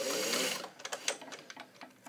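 A restored all-metal Singer 403 vintage sewing machine stitches zigzag, with a dense mechanical whir that gives way to a quick series of rhythmic needle clacks, close and clear with no voices.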